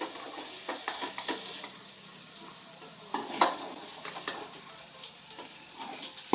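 Soya chunks sizzle steadily in a hot pan with oil, with occasional scraping and stirring clicks, close and moderately quiet, with no talking.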